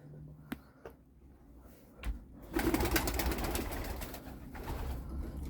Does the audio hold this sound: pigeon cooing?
yes